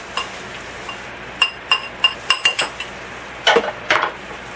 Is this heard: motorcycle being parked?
no